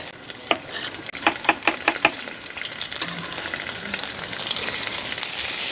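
Garlic, ginger and onion sautéing in a pan for tinola start with a quick run of sharp clacks from a utensil, then settle into a steady, building sizzle and hiss with faint stirring. No one speaks.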